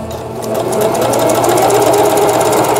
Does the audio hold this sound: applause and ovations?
no